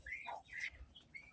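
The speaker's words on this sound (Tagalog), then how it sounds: "Pato yan." Nine farmed ducks kept in a backyard pen give faint, high chirping peeps, several short upward calls spread over a moment with quiet gaps between them.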